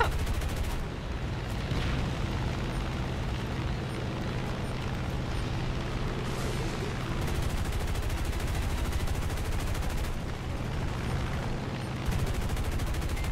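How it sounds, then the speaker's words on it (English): Continuous machine gun fire from the War Thunder arcade combat game, a dense, loud rattling barrage with heavy battle rumble that runs almost unbroken for the whole stretch, with a few brief dips. "The machine gun!"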